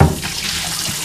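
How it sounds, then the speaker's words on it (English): Water running from a tap into a bucket at a laundry sink, a short steady splashing fill after a brief louder burst at the start. "I'm just gonna fill up this bucket with water and the soap"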